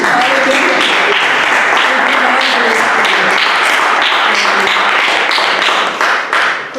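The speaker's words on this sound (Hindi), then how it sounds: "ताली तो बनती है खुदावंद के लिए" A church congregation applauds in praise of the Lord, with dense, sustained clapping from many hands filling the room at close range, a voice faintly heard beneath it.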